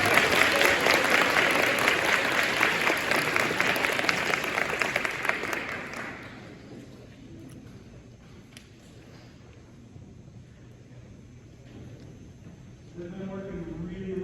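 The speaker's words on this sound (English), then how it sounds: "Now give them another round of applause" Audience applause after a school band concert, dense clapping for about six seconds that fades out, followed by a quieter stretch with a voice speaking near the end.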